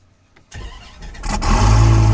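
A Procharger F1X supercharged Gen5 Dodge Viper V10 running on E50 fires up on its first start: a brief crank, then a loud catch that swells into a heavy, close, rumbling idle.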